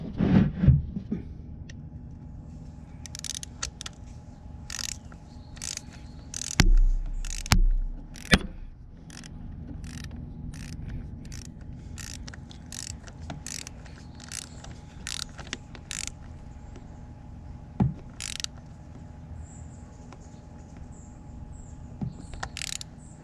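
A torque wrench tightens the oil plug on a 2022 Harley-Davidson Street Bob, giving a series of sharp, close ratcheting clicks in quick runs with a few louder clunks and scrapes between them.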